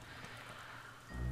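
Steady rain falls in the 2003 video game The Hobbit, a dense, even hiss of drops on surfaces that swells with a low rumble near the end, with no talking.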